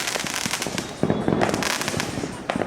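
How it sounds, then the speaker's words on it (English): Fourth of July fireworks in Allentown going off in a dense crackling barrage, loud overlapping bangs and sizzles with a heavier burst partway through. "Fireworks display."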